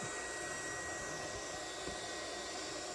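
A KKSevens induction heater's built-in cooling fan runs steadily on its own, a constant airy whir with a faint high whine, holding level for the whole stretch with no talk over it.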